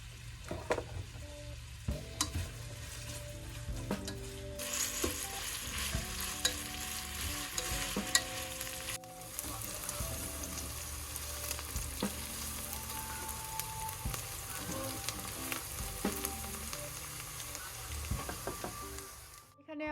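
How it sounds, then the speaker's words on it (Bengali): Onions fry in mustard oil in a pan, a sustained sizzle with repeated stirring and scraping throughout, fairly close, with occasional talk at times. "প্রথমে সরিষার তেল দিলাম, পেঁয়াজ দিয়ে দিচ্ছি। পেঁয়াজটাকে হচ্ছে হালকা বাদামি করে ভেজে"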